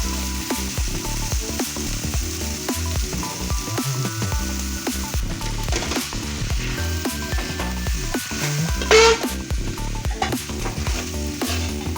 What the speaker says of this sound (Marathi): हा बघा बटाटा आता चांगला परतून घेऊया आपण कांद्याच्या ह्याच्यात